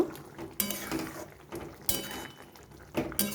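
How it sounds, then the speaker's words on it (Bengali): A spoon stirs ground nigella and poppy seeds into a bitter gourd dish in a pan, giving a few sharp metallic scrapes and clinks spaced about a second apart over a faint simmer. "সেটা দিয়ে নেড়ে চেড়ে নেব"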